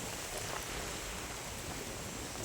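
Heavy rain falls steadily through a storm, a dense, even hiss of drops on surfaces at constant loudness, with no voices and no distinct thunder.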